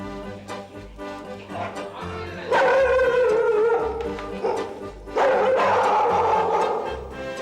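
Several dogs bark and bay loudly nearby at a construction site, a rough chorus that swells into two long, howling bursts of barking, with no talk.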